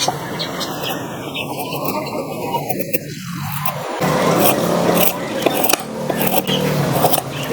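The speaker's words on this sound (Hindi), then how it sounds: "ये देखें कैसा मलाई की तरह लकड़ी को काट रही है ये।" A freshly sharpened knife shaves thick chips from a piece of wood, producing close, steady scraping and cutting noise that grows louder and rougher in the second half over a low hum.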